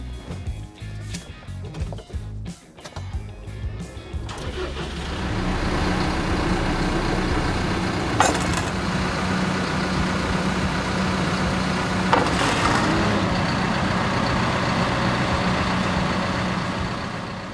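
A telehandler's diesel engine runs while the machine lifts a tire off the ground. A few clanks come first, then the engine settles into a loud, steady drone with two brief sharp knocks along the way.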